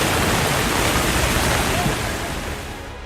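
Floodwater from a river bursting its banks during heavy monsoon rains in Nepal, a dense, steady roar of rushing water that stays loud and broadband throughout, easing slightly toward the end, with no voices.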